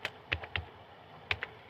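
A few quick clicks from a computer keyboard come in two small clusters with a pause between them. The taps are close and faint, with no voice heard.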